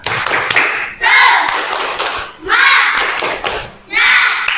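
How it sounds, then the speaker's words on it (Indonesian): A class of students performs a rhythmic group clap in three loud, distinct bursts about a second and a half apart, with the children's voices chanting along between the claps. "tepuk semangat"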